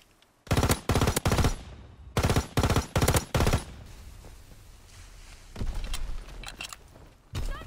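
Loud bursts of automatic gunfire from a gun in Call of Duty: WWII, several rapid volleys in close succession followed by quieter battle ambience and a final shot.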